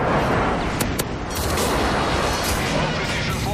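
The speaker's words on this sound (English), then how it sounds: "Friendly airstrike on the way." Airstrike bombardment in the shooter Modern Warfare 3, a dense, loud rumble of blasts and gunfire rolling continuously, with a few sharper cracks early on and faint voice chatter mixed into the din.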